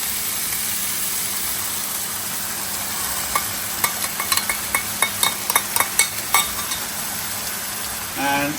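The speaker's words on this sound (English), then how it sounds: "And stir that in." Chicken cooking in a pan with sauce just added is stirred with a utensil, a run of quick scraping clicks and taps over a steady background hum, then a short soft rustle near the end.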